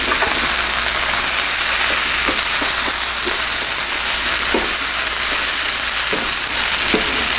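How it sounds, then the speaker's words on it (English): Steady, dense sizzling of beef and peppers in a frying pan, with a few soft scraping stirs now and then; continuous and close, no voices. "we are going to add our beef back into the frying pan here"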